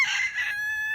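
A backyard rooster crows once, close and loud, a bright strained call that ends in a held, tapering note with nothing else heard.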